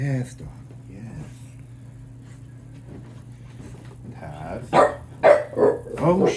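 A pet dog barks in a short burst of four or five loud, close yaps near the end, following a quiet stretch with a low steady hum and soft talking.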